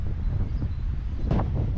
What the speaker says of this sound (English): the wind's quite strong down here in the park today